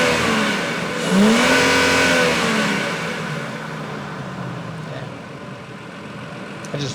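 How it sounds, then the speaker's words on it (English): A Nissan Patrol Y61 engine revs hard, rising in pitch to a loud peak before settling back toward idle, a sustained close engine roar with no talk over it. "I just revved the shit out of my engine."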